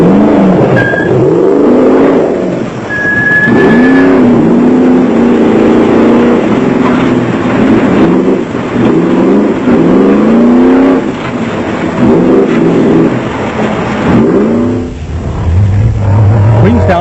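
Off-road race cars, including a Jeep, a Dakar Pajero and a Land Rover, roar through a South African off-road race at Lichtenburg, engines loud and sustained with rising and falling revs as vehicles pass close by.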